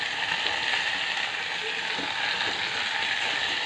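Chopped tomatoes sizzle in hot oil with ginger-garlic paste, a steady close crackling hiss that continues evenly throughout.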